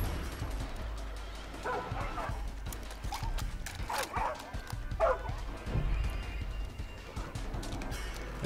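Dog barking in the video game Far Cry 5, a few loud barks and yips rising over a steady game background with hoofbeat-like clatter and faint talk.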